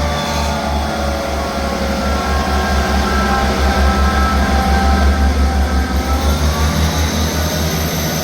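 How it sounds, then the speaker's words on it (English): ScotRail service pulling out of Dalmeny station: a loud, steady diesel engine drone with rhythmic wheel and rail clatter, rising slightly as the train gets underway, no talking. "Departing out now is the 1729 ScotRail service from Edinburgh Waverley to Leven."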